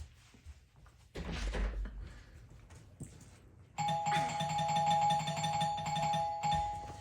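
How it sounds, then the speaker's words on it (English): A house doorbell rings late on a Saturday night: a thump and rustle, then a sustained electronic chime tone that holds steady for several seconds, close and fairly loud. "The doorbell."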